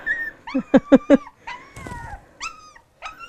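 A dog whimpers and yips in short, high, whining cries, close up, with a brief rougher growl-like sound in the middle.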